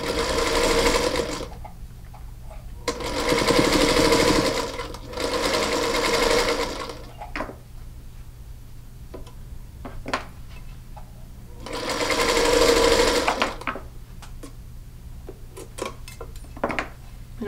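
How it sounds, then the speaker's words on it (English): A sewing machine stitches a seam on a fabric travel tissue holder in three loud bursts of steady whirring, separated by quieter pauses with small clicks and handling taps close by. "you will sew both ends closed with a seam that's approximately 3/8 of an inch"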